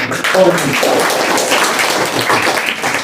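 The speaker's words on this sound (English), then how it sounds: "We should clap for them." A classroom of students clapping for classmates in a Chittagong English speaking lesson, loud, close, brisk clapping that stays steady across the whole stretch.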